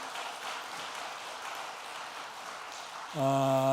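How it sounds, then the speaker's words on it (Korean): A church congregation at a Sunday worship service claps in a soft, even patter, then a sustained instrumental chord swells in near the end. "박수 한번 쳐주시죠."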